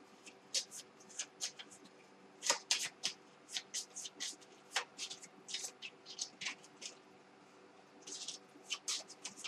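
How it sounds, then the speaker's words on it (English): Quick, crisp riffling bursts of playing cards being shuffled, repeating in an irregular rhythm close by, with a faint voice now and then. "I have to shuffle these."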